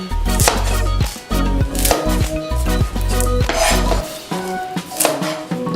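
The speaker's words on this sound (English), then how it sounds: "You can go ahead and just cut your onion open." Knife slicing through a small onion on a cutting board for shepherd's pie: a series of sharp, close taps and thumps in an irregular rhythm, with a soft scraping between cuts.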